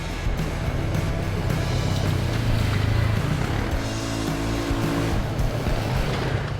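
A Polaris RZR 570 side-by-side with a passenger rips along tight dirt trails, its engine droning loud and steady throughout with rising and falling revs and a brief tire scrabble, no voices.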